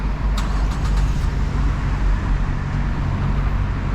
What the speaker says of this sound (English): cars coming from everywhere, guys